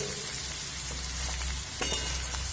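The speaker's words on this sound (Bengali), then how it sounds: "মিডিয়াম ফ্লেম করেই কিন্তু সবজিটা ভেজে নিতে হবে" Vegetables fry over a medium flame for chowmein, a dense, continuous sizzle close by with a brief burst of stirring near the end and no voices.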